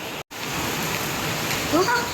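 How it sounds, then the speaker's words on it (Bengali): Steady heavy rain hisses continuously, with water pouring from a terrace pipe, a brief dropout near the start and a faint chirp toward the end. "এত জোরে বৃষ্টিটা হচ্ছে"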